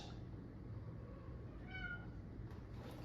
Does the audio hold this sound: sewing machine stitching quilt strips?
no